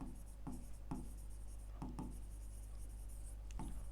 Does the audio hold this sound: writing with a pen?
yes